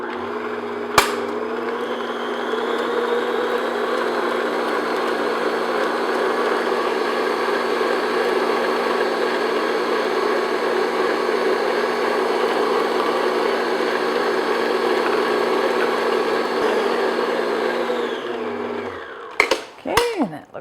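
Electric hand mixer beating eggs, added one at a time, into cake batter for Tweedie squares: a steady loud motor whir running nearly twenty seconds, then clicking off with a few clatters of the beaters against the bowl.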